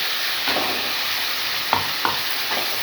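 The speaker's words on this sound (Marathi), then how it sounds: "मस्त हा तेलात मसाला भाजून घ्यायचा असं" Ground masala paste with coriander powder fries in hot oil in a pan, a steady soft sizzle broken by a few scraping stir strokes, close and fairly quiet.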